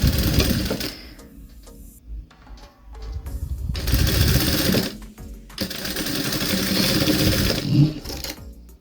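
A sewing machine stitches fabric in fast, loud bursts of mechanical whirring and needle chatter, separated by short pauses, close up and with no one talking.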